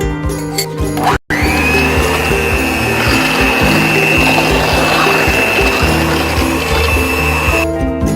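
An electric mixer whirs steadily through an egg pudding batter with baking powder in a home kitchen, a loud continuous motor drone that cuts out briefly near the start, then runs on unbroken.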